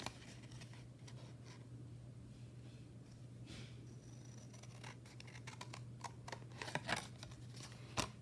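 Scissors snip through a handmade card, the quiet crisp cuts coming in irregular clusters over a low steady hum, with a couple of louder snips toward the end.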